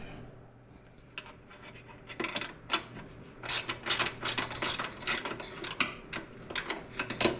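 A ratchet wrench loosens an exhaust nut on a Can-Am X3, giving rapid clicking bursts that start sparse and then become steady quick strokes, close up and fairly quiet over a low background hum.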